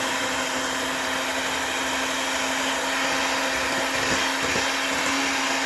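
An electric mixer whirs steadily through maple cupcake batter as dry ingredients and milk are added in turns, a loud continuous motor hum running from start to finish with no talk.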